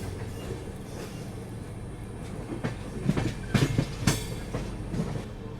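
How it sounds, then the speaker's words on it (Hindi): The Kashi Vishwanath Express on its Delhi to Lucknow run rolls forward with a steady low rumble, broken by a cluster of sharper wheel clacks midway that then ease off. "और यहाँ हमारी काशी विश्वनाथ एक्सप्रेस आगे बढ़ती हुई"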